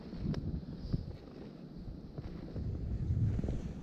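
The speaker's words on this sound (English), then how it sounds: "when it's windy like this" Gusty wind buffets the microphone outdoors during archery deer hunting, with low rumbling bursts, steady and fairly loud, with no one speaking.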